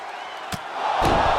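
Arena crowd noise from the WWE 2K25 wrestling game, a steady broad roar that swells louder in the second half, with a sharp slam-like hit near the start and another burst around the one-second mark.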